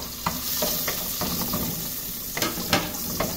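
Garlic fries in a small amount of cooking oil, a steady close hiss broken by several sharp scraping stirs of a utensil in the pan, with no talking.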